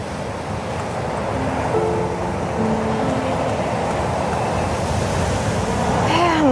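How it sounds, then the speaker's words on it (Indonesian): Ocean waves wash on a shore in a continuous, loud rush, with wind noise over the microphone throughout. "Lagi pengen dengerin ombak."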